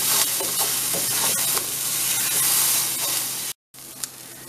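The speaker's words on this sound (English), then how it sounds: "I'm going to cook the rawness out of the onion" Onion fries with toasting rice in a pan, a close steady sizzle broken by stirring scrapes, cutting out briefly before resuming with a sharp clink.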